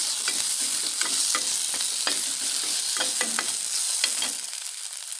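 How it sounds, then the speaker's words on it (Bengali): Ginger-garlic paste fries and is stirred in a hot pan, giving a steady close sizzle broken by repeated scraping strokes before the sizzle quiets toward the end, with no talking. "আদা রসুন বাটাটা এখন আমি দিয়ে দিব।"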